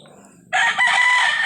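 A rooster or chicken on a poultry farm lets out a loud, close crow-like call that starts abruptly halfway through and holds to the end, following faint low clucking.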